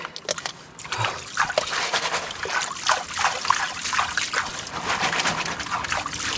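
Water sloshes and trickles steadily in a gold pan during the last panning of the day at a creek spot, with continuous splashing and dribbling close by, no talk.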